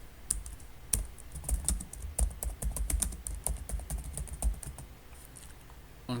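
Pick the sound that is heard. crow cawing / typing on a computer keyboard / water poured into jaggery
typing on a computer keyboard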